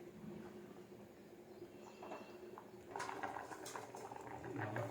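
Morning breakfast cooking in a pan over a medium-to-high flame, a steady bubbling boil with soft sizzling that grows busier and louder partway through, with no voices over it.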